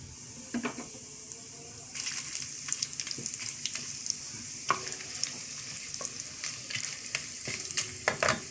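Bay leaf, cinnamon, cloves and cardamom fry in hot oil and ghee, giving a soft crackling sizzle that swells after the first couple of seconds, punctuated by scattered spatters and utensil clinks.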